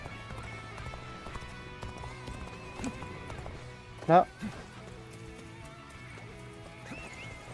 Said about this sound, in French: je peux monter à cheval, j'avais oublié que je pouvais